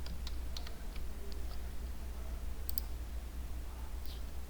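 Keys click on a computer keyboard as numbers are typed, a few sparse light taps over a low steady hum, quiet and close.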